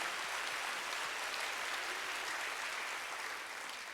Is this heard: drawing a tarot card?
no